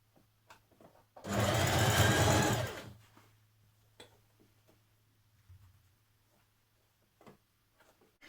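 A sewing machine runs in one steady burst of about a second and a half, stitching together the facing pieces for a Mimi blouse, loud and close, with quiet handling clicks before and after.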